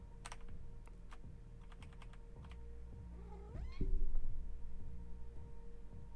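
A cat gives a single short rising meow partway through, quiet beneath steady computer keyboard typing and the background hum of a Pokémon Blue game.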